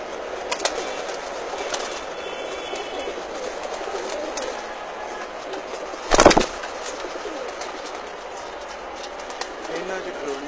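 Prince Kamgar pigeons coo in soft, low murmurs over a steady background hiss, with a brief louder burst near the middle and faint voices in the distance.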